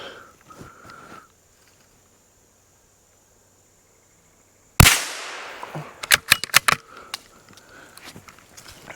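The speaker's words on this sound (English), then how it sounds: "I missed him on that first shot." A single sharp shot from a Savage MKII FV-SR .22LR rifle fired at a squirrel outdoors cracks out loudly after a quiet stretch, followed by a series of short, harsh chattering calls and faint insect buzz.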